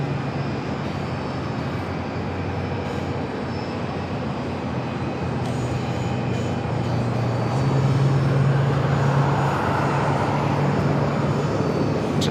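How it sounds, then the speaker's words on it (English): An American Airlines Airbus A321neo from Dallas Fort Worth landing at Phoenix produces a broad, steady jet roar that swells slightly toward the end. It stays continuous and fairly loud, with no talk over it. "American Airlines 1974 coming in from Dallas Fort Worth on the A321neo."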